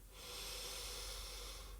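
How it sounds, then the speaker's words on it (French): A single slow, steady breath is drawn in through the nose, a soft, close hiss lasting almost two seconds in a quiet room. "Inspiration par le nez."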